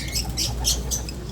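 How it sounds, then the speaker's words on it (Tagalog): Caged birds squawk and chirp in several short, bright bursts over a low background hum, fairly faint and close. "ito yung mga ibon natin na rito"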